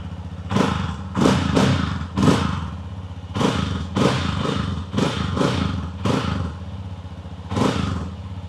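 A Yamaha XG250 Tricker motorcycle engine bursts into a series of short, uneven revs with a rattling, thudding clatter, roughly ten blips spaced over several seconds, close and fairly loud, with no talking.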